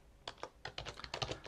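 Quick clatter of keys on a computer keyboard, a short irregular run of close, crisp taps of varying strength, with no talking.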